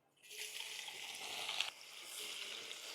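Chopped onion fries with whole spices (cinnamon, black pepper, cloves, bay leaf, coriander seeds) in oil in a kadhai, a soft steady sizzle with a brief stirring swell midway.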